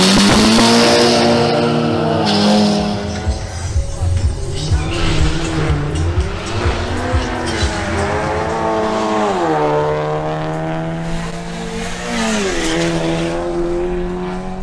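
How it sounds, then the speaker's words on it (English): Two Volkswagens, a Golf GTI and a Bora GLI, launch in a drag race, their engines revving loud and close with rising and falling harmonic sweeps as gears change, plus a burst of tire noise at the start. "the face-off between John Novoa's Volkswagen Golf GTI and Carlos Rojas's Volkswagen Bora GLI"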